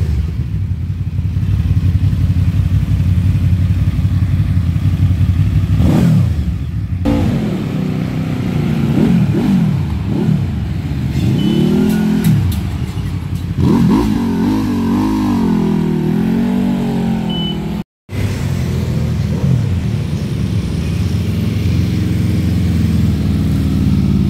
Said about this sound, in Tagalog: At ito naman ang actual exhaust sound ng SRB 600 V4 cylinder engine.